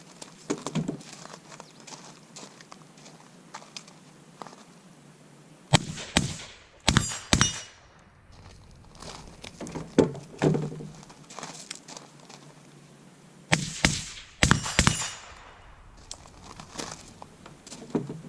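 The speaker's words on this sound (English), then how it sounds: "So we'll shoot them back to back just so you guys can kind of see the difference" A suppressed PSA JAKL rifle set on gas position 3 and another suppressed rifle are fired back to back, giving several sharp, muffled cracks in small clusters spread across the stretch, with quieter handling noise between them.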